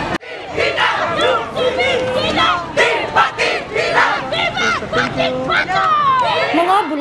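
Crowd of well-wishers with flowers and balloons greeting bar exam takers, shouting and cheering loudly in a continuous excited babble of many voices up close.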